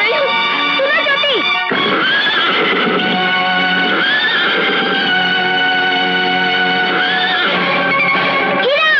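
A horse in a Bollywood film scene neighs loudly in long, wavering whinnies that repeat across the clip, over a processed, echoey soundtrack.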